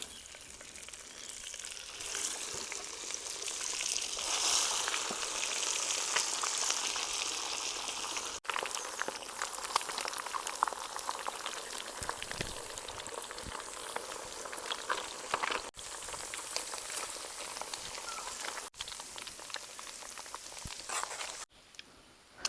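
Fish fry in hot oil in a pan for a Kerala-style chilli fish curry, giving a steady close crackle and sizzle that runs throughout, with a few sharp clicks and no talking.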